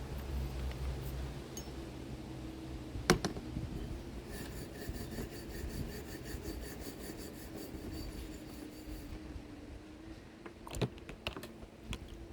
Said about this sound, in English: Give that a scrub down.